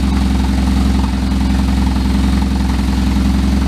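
A new mini truck engine idles steadily up close, its pulsing exhaust beat carrying a regular uneven, hit-and-miss rhythm throughout, loud and unbroken with no talk.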